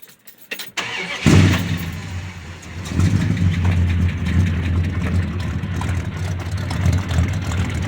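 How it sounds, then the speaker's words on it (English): A Dodge D150 pickup V8 with an aftermarket cam cranks briefly and catches at about one second on a cold start, then settles into a loud, deep, rumbling idle that steps up slightly near three seconds. "Cold start."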